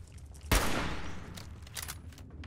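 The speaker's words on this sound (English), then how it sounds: "Give him a little warning shot there." A single sharp gunshot fired at a Mire Lurker in Fallout 4 cracks out loud and close, then trails into a long rumbling decay, with a few softer clicks and thumps following.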